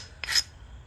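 A single quick, light raking scrape across the platform edge of a stone biface, brief and fairly faint, alone without talk.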